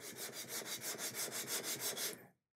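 Strokes of 120-grit sandpaper on a radius block across a guitar fretboard: about ten steady, even back-and-forth rasps, close and loud, with no other sound and a sudden stop at the end.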